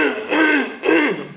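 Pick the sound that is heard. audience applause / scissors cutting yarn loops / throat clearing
throat clearing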